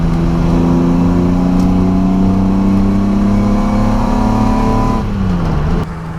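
Datsun 280Z hot rod with an inline six-cylinder engine driving on rough roads, a loud steady drone held at constant revs, easing slightly near the end.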